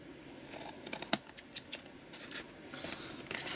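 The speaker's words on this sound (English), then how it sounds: "Not too bothered. Just quick snips." Scissors make a string of quick, crisp snips while trimming and tidying edges, irregular short cuts heard close and fairly quiet with no talking.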